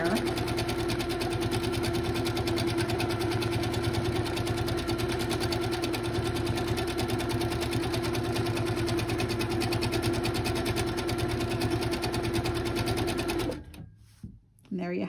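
A sewing machine stitching a free-motion quilting design on a practice panel, a fast continuous mechanical whir running steadily for most of the stretch before stopping abruptly near the end.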